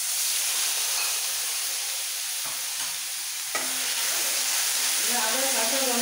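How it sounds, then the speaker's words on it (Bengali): Ginger sautéing in oil in a pan for a hilsa fish recipe: a dense, continuous sizzle with occasional stirring scrapes, close and fairly loud. "আদার কাঁচা গন্ধটা না পর্যন্ত একটু কষিয়ে নেবো।"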